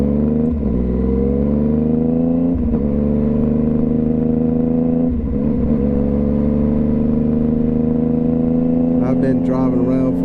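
A motorcycle rides through big-city traffic, its engine close and loud as it revs up in several rising pulls with brief dips between gear changes, and a clattering burst comes near the end.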